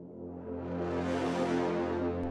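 Reverse brass stab transition effect: a sustained brass chord that swells from quiet to loud over about two seconds before cutting off abruptly, smooth and rising in brightness, heard alone.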